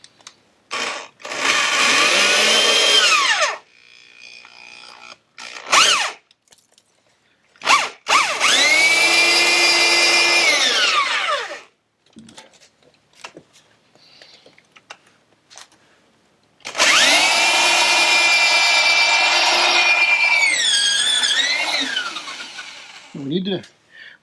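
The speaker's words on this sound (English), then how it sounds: "we drill a hole for our bolt" A power drill whines loudly in three long bursts, its pitch sagging as the bit bores a deadbolt hole into a wooden door, with quiet gaps and handling noises between.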